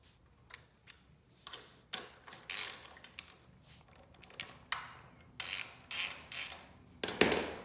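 A ratchet wrench loosens a fastener while installing a carbon fiber back brake reservoir relocator, giving short bursts of ratcheting clicks spread through the clip alongside quieter clinks, with no talking.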